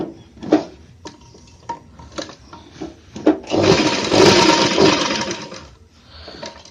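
Sewing machine stitching a men's shirt sleeve: a few scattered clicks and handling knocks, then a loud, steady whirring run of stitching lasting a few seconds before stopping.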